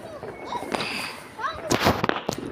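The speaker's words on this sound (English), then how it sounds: "it's bonfire night and we're watching the fireworks, right, Dipsy?" Bonfire night fireworks pop and crackle in short scattered bursts outdoors, fairly distant, with whistling rising streaks and people talking nearby.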